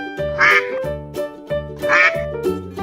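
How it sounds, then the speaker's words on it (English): A cartoon farm duck quacks in a sung Old MacDonald nursery rhyme for children, giving two loud, nasal quacks about a second and a half apart over a bright musical backing. "Duck."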